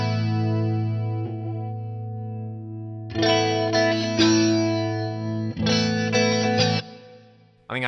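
Guitar run through a chorusy, flanger-type preset, set as a reverse feedback flanger, on an Eventide Rose delay pedal: a held note shimmering and fading, then two bursts of strummed chords with swirling modulation, alone.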